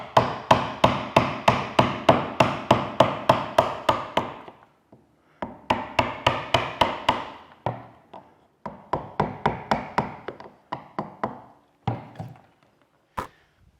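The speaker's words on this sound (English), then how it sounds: "when I was using my mallet and gouge" Repeated sharp mallet strikes on a gouge carving into a laminated wood keel, landing in quick rhythmic bursts of about a dozen blows, broken by short pauses, close and loud with no talk.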